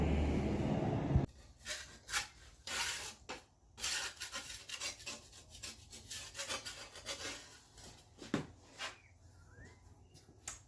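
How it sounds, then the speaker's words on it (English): Repeated rubbing and scraping as dried glaze is cleaned off the bottoms of ceramic platters, a brief louder burst at the start, then steady rasping strokes in an irregular rhythm, close and moderately loud with no talking. "I clean all the bottoms of these platters"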